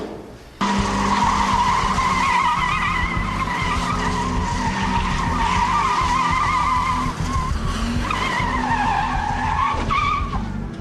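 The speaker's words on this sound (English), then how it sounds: "Reported a vehicle doing donuts in the car park behind the Shire offices in Penhope Road." A car does donuts in a car park behind council offices, its tires squealing and skidding continuously over a loud, wavering engine drone for about ten seconds. No one talks.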